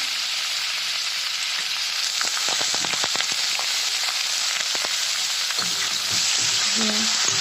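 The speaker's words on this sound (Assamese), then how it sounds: "এতিয়া গোটেইখিনি তেলত ভাজিম।" Dal frying in oil in a kadai makes a steady, close sizzle throughout, broken by a cluster of sharp crackles and pops in the middle and a faint squeak of stirring near the end.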